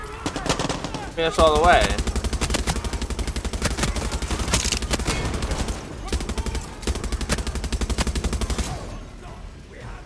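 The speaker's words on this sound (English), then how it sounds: "I didn't even know there's a turret here." Rapid, sustained automatic fire from a mounted turret machine gun in the video game Far Cry 6, loud and continuous for most of the stretch, with a voice speaking briefly over the gunfire.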